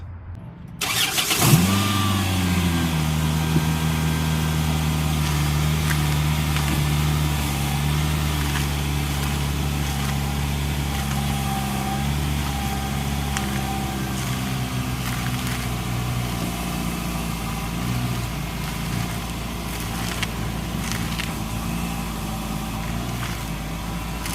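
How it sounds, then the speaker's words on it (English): A car engine in a home garage cranks and catches, then settles into a steady, even idle that runs for the rest of the clip without revving. "Now that everything is buttoned up, I already start the car"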